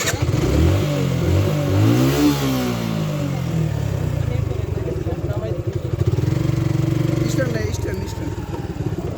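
Engine of a Chander Gari jeep straining loudly as it climbs a steep hill road, revving in surges with clattering mechanical rattle, under constant speech from people nearby.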